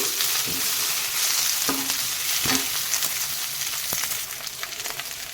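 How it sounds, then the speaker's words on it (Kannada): Coriander leaves fry in a pan for hotel-style chutney, giving a steady, close sizzle with soft stirring scrapes and a few brief clinks throughout, no talking. "ಈಗ ಇದು ಒಂದು ಸ್ವಲ್ಪ ಫ್ರೈ ಆಗಬೇಕು ಚೆನ್ನಾಗಿ ಇದರಲ್ಲಿ"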